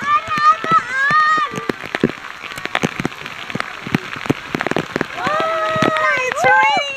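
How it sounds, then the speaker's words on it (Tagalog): Rain falls outdoors near Big Lagoon, a soft patter running under several people talking. "Ah, it's raining."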